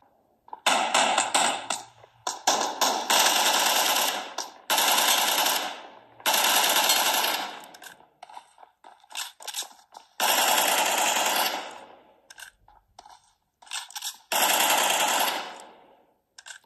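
Machine gun fire in the video game PUBG, played on a Sony Xperia 5 Mark 2, comes as several loud, sustained bursts of rapid automatic shots, each lasting one to two seconds, separated by short gaps.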